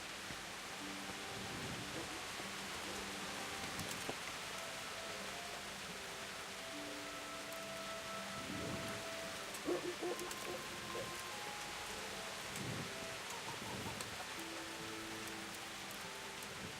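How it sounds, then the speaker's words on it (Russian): Steady rain patters continuously on surfaces in the video game Kingdom Come: Deliverance, with faint scattered tonal sounds and occasional soft thumps in the background; no one speaks. "Да, дождик он продолжает поливать."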